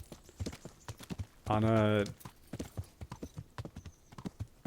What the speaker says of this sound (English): okay-ish horse.